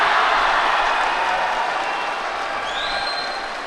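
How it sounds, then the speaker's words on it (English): A judo arena crowd at the Almaty Grand Prix reacts to a home fighter on mat 3 against a Zambian opponent, with a steady roar of applause and cheering that slowly eases. "The crowd reaction, as you might have guessed, is from mat 3, the home fighter against the Zambian"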